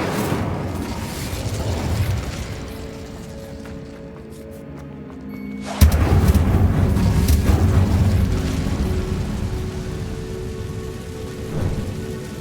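Confringo and Incendio spells blast in Hogwarts Legacy, a rumbling fiery rush that builds quietly, then erupts into a loud sustained burst about halfway through, with crackling debris and a smaller flare near the end.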